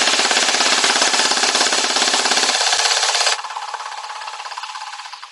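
A custom futuristic AK47 gel ball blaster built on an Anstoy base fires a long, rapid automatic burst, a loud mechanical rattle that thins out partway through before stopping, heard close with no talking.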